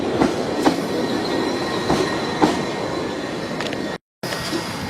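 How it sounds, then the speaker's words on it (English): A London Underground Piccadilly line train bound for Heathrow Terminal 4 pulls out of Northfields at night, its steady rumble broken by rhythmic wheel clicks over rail joints, fairly close with a brief gap near the end. "off goes the Piccadilly line service to Heathrow Terminal 4"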